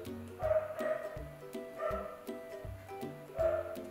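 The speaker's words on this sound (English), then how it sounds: "Man, that dog's really going for it." A dog barks repeatedly in bursts of low woofs and yips, several barks close together, fairly near and alone with no talk.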